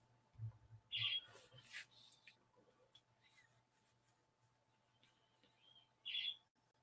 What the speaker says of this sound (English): that's him chirping.